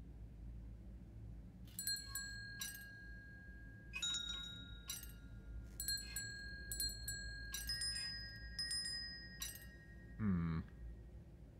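Bells ringing in the puzzle game The Room 4: Old Sins, a series of bright, clear chimes struck one at a time with lingering tones, closing on a lower swooping sound, while someone murmurs briefly.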